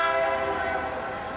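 CSX freight train with locomotives on the Plymouth Subdivision in 1998, a loud sustained horn blast with rich harmonic tones, close by, slowly fading over a low rumble of the passing train.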